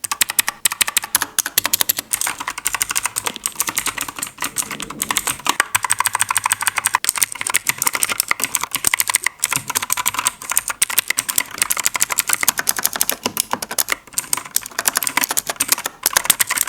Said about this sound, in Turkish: Şimdi gelin bu G-Sense switchler nasıl bir ses çıkartıyor?